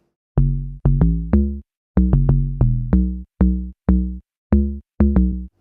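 A drum machine lock drum pattern of short, punchy low drum hits with clicky attacks, played in a brisk syncopated rhythm with brief silences between groups.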